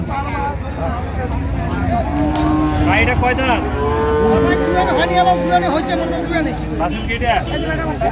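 A cow lows with long drawn moos at a busy rural cattle market for dairy cows and calves, loud and near, over a steady crowd murmur and background chatter.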